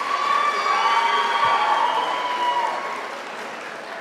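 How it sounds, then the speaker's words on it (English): An audience claps at a school show, with steady dense applause that fades slightly toward the end, mixed with sustained tonal sounds. "Little applause."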